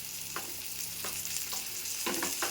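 Pieces of shark fish fry in hot oil with a bright, steady sizzle, broken by several sharp crackles and spits as the fish settles in the pan.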